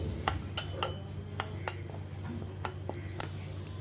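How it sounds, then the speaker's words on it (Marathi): Spoon clinking against a bowl while stirring spice powders such as chaat masala and Kashmiri red chilli, several light metallic taps spaced unevenly over a quiet kitchen hum. "हे सर्व आपल्याला मिक्स करून घ्यायचं आहे"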